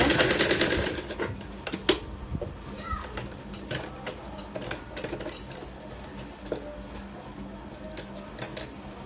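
A sewing machine stitches a back-open blouse in short, quick bursts of rapid needle clatter, close by and fairly quiet, with someone talking and children's voices in the background.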